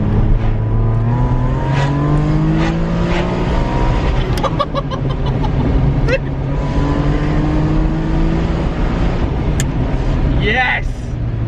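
Ferrari 550 Maranello with its F133 V12 revving under way, a loud continuous engine roar that climbs and drops through the gears from inside the moving car.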